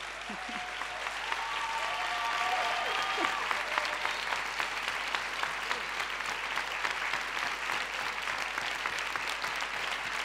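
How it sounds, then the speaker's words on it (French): Sustained applause from a large audience at a thesis-presentation competition final, steady and fairly loud for about ten seconds, with a few faint tones early on. "je vous demande de les applaudir très, très chaleureusement"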